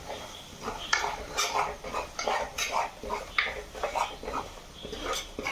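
Turmeric powder stirred in a pan for a fish curry, with a steady run of scraping, clinking utensil strokes against the metal, close and moderately loud, with no voices.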